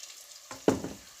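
Onions frying in oil in a pan: a short, close burst of sizzle and crackle rises suddenly out of near silence and fades within a second.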